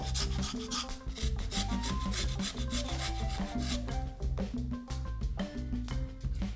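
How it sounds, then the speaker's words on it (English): Galangal is grated steadily on a microplane, a close rhythmic rasping scrape repeating stroke after stroke over background music. "hold the microplane sharp side down and grate steadily until you have about 2 teaspoons grated galangal"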